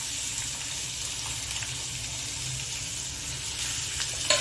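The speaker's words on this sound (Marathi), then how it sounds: "तेल गरम करायला ठेवलं होतं, त्याच्यामध्ये आपण हा कांदा घालणार आहोत" Chopped onion sizzling in hot oil for a bombil (Bombay duck) chutney, a soft, even frying hiss that holds steady from start to finish, with a small clatter at the very end.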